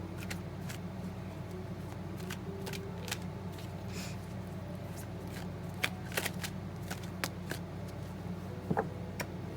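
Tarot cards shuffled and cut steadily at close range, a continuous papery riffle with sharp snaps and taps scattered throughout, no talking.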